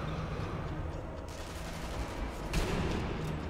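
Rapid bursts of gunfire in the video game Sniper Elite V2, a sharp loud headshot crack standing out partway through, over a busy background of game noise.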